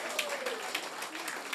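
A church congregation claps together during a Sunday service at a Filipino gospel church, a steady patter of many hands throughout.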